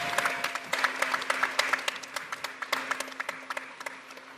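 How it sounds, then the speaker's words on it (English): Graduates and families at a University of Maryland commencement break into applause, many hands clapping in a dense, steady burst that thins toward the end with individual claps standing out. "And I think that deserves another round of applause."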